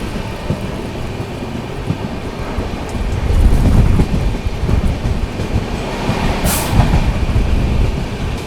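Karnataka Sampark Kranti Express, train 12650, skipping a station: a loud, steady rumble and wind roar of the moving train, with the rumble building midway and a brief high squeal near the end.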